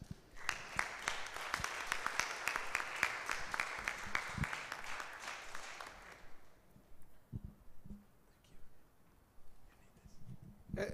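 Audience applause after a public lecture: dense, steady clapping from a large hall for about six seconds, then dying away to scattered faint claps and room noise.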